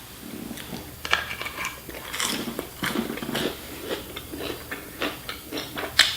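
Someone bites and chews spicy McDonald's McNuggets, with soft crunchy, moist chewing sounds and a few sharper bites close to the mic, with no talking.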